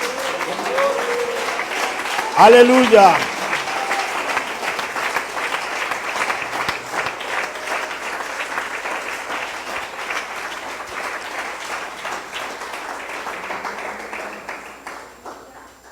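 A church congregation applauds the Lord during a Spanish-language sermon, a broad steady wash of clapping that swells loudly near the start and then holds for many seconds before tapering off, with a voice calling out briefly over it.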